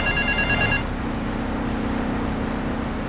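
A telephone rings in Grand Theft Auto III with a brief, electronic ring lasting under a second, followed by steady background game ambience and engine-like rumble.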